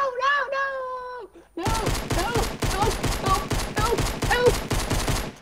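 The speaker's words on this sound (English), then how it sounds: "I shot over there to try and scare him off." Rapid bursts of gunfire from the Fortnite video game crackle in a dense, fast sequence right after a high voice, loud and close, continuing through to the end.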